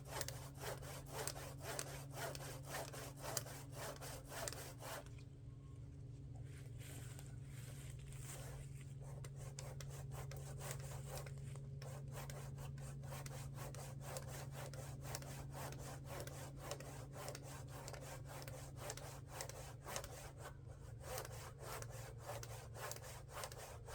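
A hand saw rasps through a log in a fast, steady back-and-forth rhythm, close and continuous, with a brief pause partway through.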